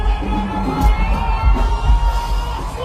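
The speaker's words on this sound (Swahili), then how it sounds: "Wapi shangwe na vigelegele?" A crowd at an outdoor event cheering and ululating, a dense, fairly loud roar of voices with rising whoops throughout the short stretch.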